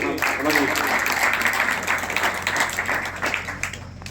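A crowd claps to welcome a guest at an Independence Day program, a dense patter of many hands that swells at the start and slowly thins toward the end, heard fairly close.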